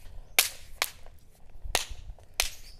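Small firecrackers pop one at a time, with four sharp, loud cracks spaced irregularly across a few seconds and quiet between them.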